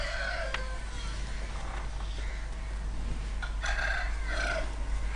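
A fully grown parrot-beak rooster from Sri Lanka crows and clucks over a steady low hum, with several loud, close calls, the longest and strongest near the end.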